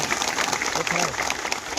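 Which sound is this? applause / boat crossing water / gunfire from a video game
applause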